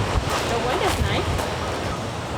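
Wind gusts steadily at a campsite on Orchid Island, Taiwan, rumbling and buffeting close to the microphone. A voice talks underneath the blustery noise.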